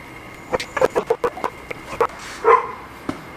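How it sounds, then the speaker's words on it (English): A fluffy dog barks and yips in a quick run of sharp, close calls, then gives a longer howl-like sound and one last bark, loud and alone without talk. "This is Coda the dog"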